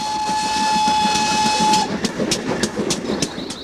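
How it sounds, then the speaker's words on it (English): A steam train passing through the English countryside, opening with a long, loud whistle blast over hissing steam, then rhythmic chugging puffs as it goes by, with no voices. "when a steam train chugs by, it's quite an exciting event for both young and old"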